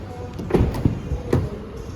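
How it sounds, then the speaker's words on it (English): Rear doors of a 2025 Honda Civic e:HEV in RS spec are opened with some force, producing three solid, close clunks and thuds spread across a quiet background. "So you need to use a bit of force to open the doors because it's very solid."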